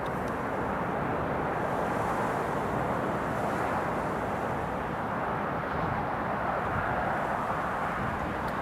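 A British Airways airliner lands at Newcastle Airport during Storm Isha, its engines a loud, sustained roar mixed with heavy wind rumble that holds steady throughout.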